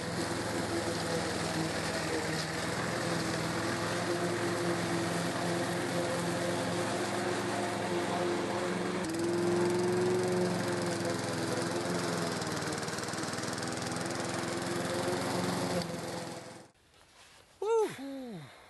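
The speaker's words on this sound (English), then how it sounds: "better go and get the old mower" An old lawn mower running continuously while mowing the lawn, a steady droning engine that cuts off near the end, followed by a few brief voiced sounds.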